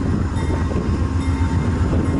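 An Amtrak passenger train rolls past on the rails in cold weather, a loud, close, continuous rumble with rattling wheel noise filling the whole moment, no voices.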